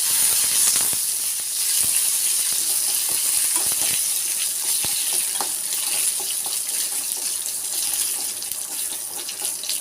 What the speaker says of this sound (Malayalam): കുറച്ച് ഉണക്കമുളക് ഇട്ട് കൊടുക്കാം. കുറച്ച് കറിവേപ്പില ഇട്ട് കൊടുക്കാം.